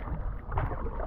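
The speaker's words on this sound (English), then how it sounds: "Having fun out here with my paddle in my canoe." Canoe paddling on the Missouri River, with steady low water wash and faint gurgling against the hull under light wind, continuous and close without clear separate strokes.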